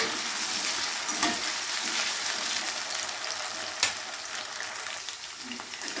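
Potatoes frying in a pan with a little salt, a continuous close hiss and sizzle of oil with occasional stirring scrapes and a sharp clink of the spatula.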